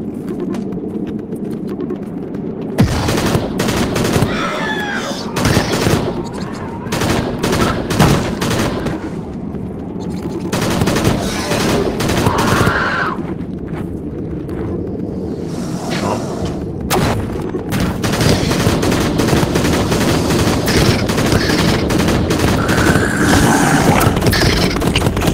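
Burst gunfire in the VR shooter Crashland on Meta Quest 2: loud, dense volleys of rapid shots and booms run almost continuously, layered over a constant wash of game noise with barely any pause.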